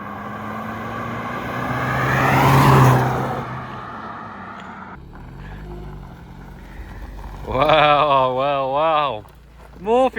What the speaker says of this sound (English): Man, it sounded good as you went by. That I really hear that turbo.